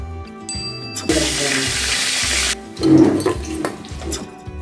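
Crab lollipops sizzle in a pan, a steady frying hiss that swells for a moment and then settles as the pieces are moved and turned, heard close and moderately loud.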